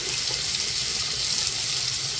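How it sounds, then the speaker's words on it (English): Steady close rush of water from a newly installed Moen Karis faucet, running continuously to flush debris from the pipes, loud and unbroken with no voices. "This is just to drain any debris that might have fallen into the pipes."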